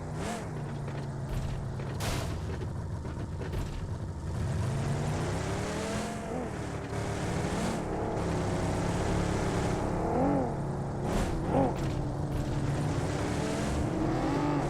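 A car cruising along a road, heard from inside as a low, steady engine and tire hum with soft rattles and creaks, moderate and continuous throughout.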